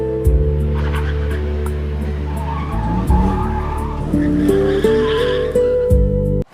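Car tires skid on a wet road in a loud, sustained squeal that shifts in pitch over a low engine hum, cutting off abruptly at the end.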